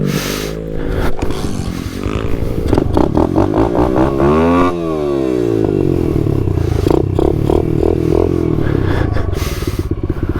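A small pit bike engine revs hard while being ridden, climbing and falling in pitch through throttle blips and shifts, loud and close with some rattling clatter from the bike.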